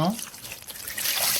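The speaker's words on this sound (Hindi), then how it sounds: "एबे पानी देवे आप" A short trickle of water splashes and dribbles into momo dough, brief and fairly close, with a faint voice in the background.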